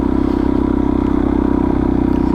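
Steady, loud engine drone of a Suzuki DRZ400S dual-sport motorcycle being ridden, a constant low rumble with even pulsing and no voices, close and continuous throughout.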